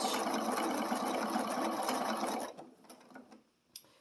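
Sewing machine running steadily as it stitches around a candy corn appliqué on a Halloween bats-and-boos table runner, a loud continuous whir for about two and a half seconds, then stopping, leaving faint handling clicks.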